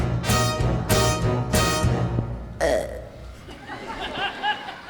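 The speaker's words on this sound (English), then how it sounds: "Oh, how I love to burp." Several loud, drawn-out burps come one after another in a stage musical scene, with voices and chuckling around them.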